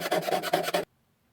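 Piercing saw cutting along a marked line, a rapid rhythmic rasping of short strokes close by that stops abruptly into silence.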